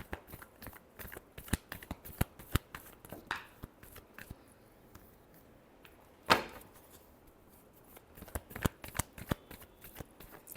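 Tarot cards are shuffled by hand in quick bursts of crisp riffling clicks, with one louder riffle in the middle, close up and with no talk.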